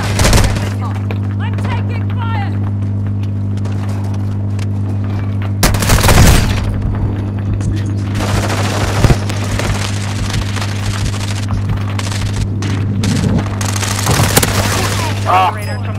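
Gunfire in the video game Warzone 2: scattered booms and sharp shot bursts erupt at intervals over a steady low hum, with a loud cluster near the middle and more near the end, under occasional talk.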